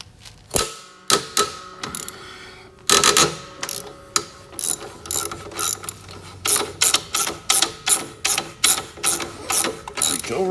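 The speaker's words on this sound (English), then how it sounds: "So let's see what happens when we start to torque it off." A ratchet wrench works a swing arm nut loose on a Venom motorcycle, giving sharp, close metallic clicking bursts in a steady repeating rhythm, each stroke a quick rattle of pawl clicks.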